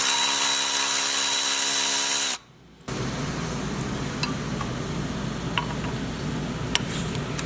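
An impact wrench works on a water pump bolt on a Jeep Cherokee, first in a loud steady whir, then a short silence, then a lower continuous mechanical rumble with a few faint clicks, close up and without talk.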